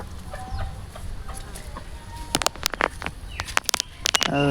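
Chicken clucking close by at a rural Assamese home: soft background murmur at first, then a run of sharp, abrupt clucks in quick uneven bursts, with no talking.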